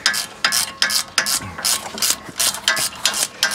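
A ratchet wrench working on the wheel hub bolts of a Jeep, making a rapid, repeated clicking of pawl strokes in an even rhythm, close and clear with no speech.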